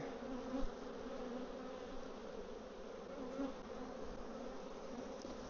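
Honey bees buzz steadily at an opened hive whose frames hold freshly drawn but empty comb, a dense, continuous, close drone with no pauses and no voices.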